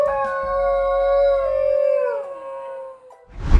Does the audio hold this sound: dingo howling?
yes